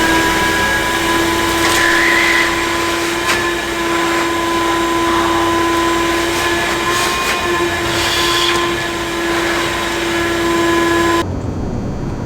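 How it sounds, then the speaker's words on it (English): A vacuum draws debris out of a freshly drilled hole for a lag bolt during a machine setup, a steady whining drone with a constant tone running unbroken for about eleven seconds, then cutting off. "go ahead and vacuum your hole."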